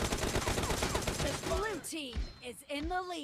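Rapid gunfire bursts in the mobile shooter PUBG Mobile, quick repeated shots at the start, then scattered single cracks mixed with game sounds and a voice talking.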